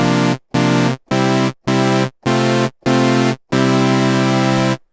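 An Omnisphere synthesizer's default patch plays seven sustained chords separated by short gaps, the last held longer, bright and full with no talking.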